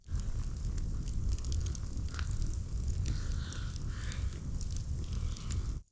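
Campfire at a taiga camp with pike head and tail boiling in a pot, crackling and hissing steadily for about six seconds, broadband and close, no talk.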